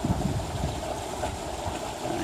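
A sailboat under full sail runs down a narrow channel, steady wind buffeting the microphone over a low rush of water along the hull, continuous and fairly close with no voices.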